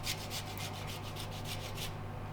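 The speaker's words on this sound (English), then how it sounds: "So we'll start off by zesting a lemon. You don't need too much zest. I'll just use a normal grater to do this." A lemon is rubbed against an ordinary kitchen grater in about a dozen quick, even rasping strokes, close and steady, then the scraping stops.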